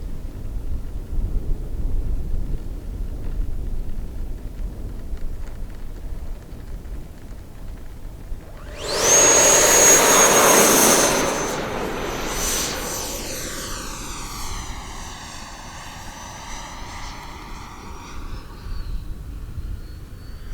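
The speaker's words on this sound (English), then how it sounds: "Sit tight, we're going to do a quick takeoff and another landing" An FMS Super Scorpion V2 90mm EDF model jet takes off, its ducted fan rising to a loud rushing whine that then sweeps away into the distance, with steady wind noise throughout.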